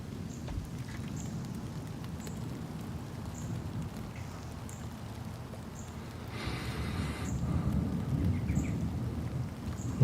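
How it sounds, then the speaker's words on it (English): Recorded rain with an added thunder layer: steady pattering rain throughout, a rolling rumble of thunder building near the end, and no voices. "Sometimes I add another layer, a little thunder, because you can do 2 at a time."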